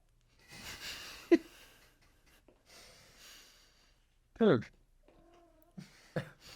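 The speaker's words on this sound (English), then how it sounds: "My cat Dell is in the window" A cat in a window coos and meows, several short, fairly close calls spread out and separated by pauses, with people talking quietly in between.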